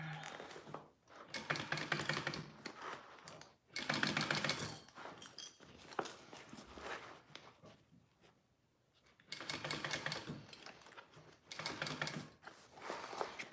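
A sewing machine stitches a dragon sling in quiet bursts of rapid mechanical whirring and clatter, starting and stopping several times with short pauses between runs, close and moderately faint.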